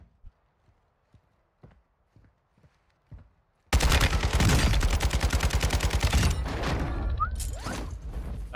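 An RPK light machine gun in Warzone 2 opens up in a loud, sustained burst of rapid automatic fire after several soft, scattered clicks and footsteps, with the rattling stream continuing to the end.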